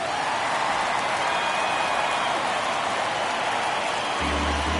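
Crowd noise from a baseball stadium in the video game MLB The Show 23 forms a dense, steady roar throughout, with a low tone entering near the end.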